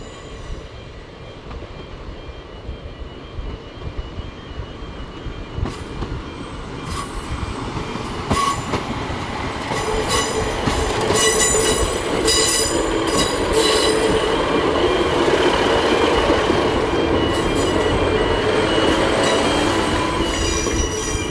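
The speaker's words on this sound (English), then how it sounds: "watching the little train as it meanders its way along this beautiful branch line" A small passenger train rumbles past steadily on a branch line, wheels clattering and squealing on the rails, growing louder as it draws close, with no voices.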